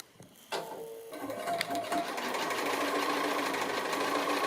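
Sewing machine stitching a quilt block seam: a click and a brief start, then a steady close whir of stitching that builds and keeps running to the end.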